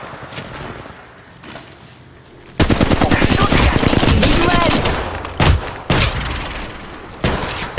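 Rapid automatic gunfire in Apex Legends Mobile erupts loud and dense after a quieter start, sustained bursts rattling close with brief gaps and renewed volleys.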